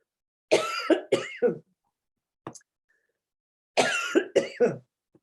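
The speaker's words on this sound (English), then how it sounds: "I hope I'll stop coughing" A woman coughs in short harsh bursts, two clusters of three or four coughs separated by a pause with a single faint throat sound, close and clear against a silent background.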